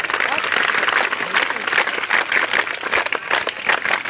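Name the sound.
schoolchildren clapping together on cue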